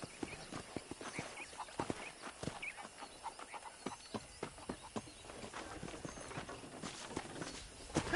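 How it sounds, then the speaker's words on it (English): Horse hooves clip-clop in a steady walking rhythm at a ranch in the Red Dead Redemption video game, with scattered brief sharp knocks and a faint whinny over quiet ambient background. "I picked out a fine horse for you."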